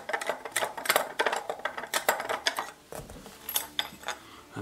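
A stock key being fitted into a Beretta 686 Silver Pigeon shotgun, heard as a close series of light metallic clicks, taps and rattles in irregular bursts, with no talk.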